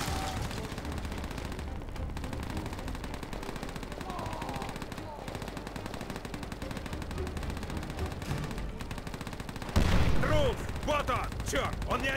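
Sustained bursts of rifle and machine-gun fire rattle through a World War II battle in Call of Duty: World at War, dense and continuous, with a louder, closer volley near the end.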